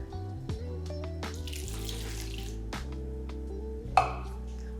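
Water runs steadily from a tap and splashes into a bowl for cake batter, with a few light clinks of dishes in the background.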